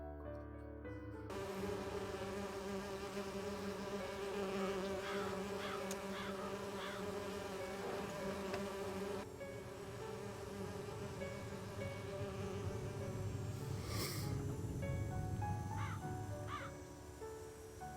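Steady insect buzzing of bees from a beehive in a Wii mystery adventure game, a continuous drone with faint tonal background music running throughout.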